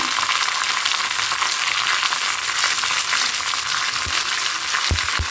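Curry leaves crackle and sizzle in hot oil on a low flame, a steady dense hiss throughout with a few sharper pops near the end.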